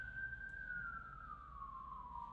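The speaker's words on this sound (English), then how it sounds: "Because there's always some damn sirens." A distant emergency-vehicle siren in Atlanta wails faintly through the city, a single steady tone sliding slowly downward over a low hum of background noise.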